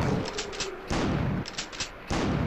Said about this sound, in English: I can't shoot worth a damn here.